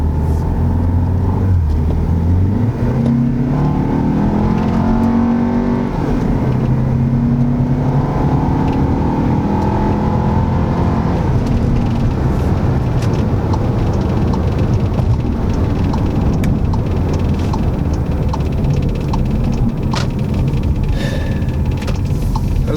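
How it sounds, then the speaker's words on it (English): A Volkswagen Tiguan with its turbo muffler deleted and a turbo inlet fitted accelerates hard, engine drone climbing through the gears over a steady road rumble, with a faint whooshing from the turbo; no talking. "just from that quick pull, I heard a little bit of a whooshing, like on initial acceleration"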